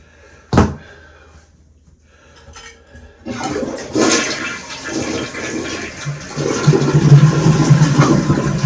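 A newly installed ADA toilet on a fresh wax seal flushes during a leak test. A sharp knock comes first, then a loud rushing flush and gurgling refill continue steadily to the end.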